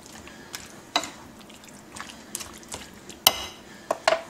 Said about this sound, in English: let me get a spoon because that's kind of hard to stir with